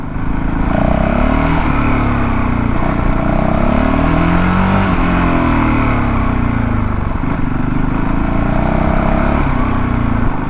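A Honda CRF450L dual-sport motorcycle rolls slowly at about 10 mph with a steady, loud, close engine drone whose pitch rises and dips gently with small throttle changes, no talk.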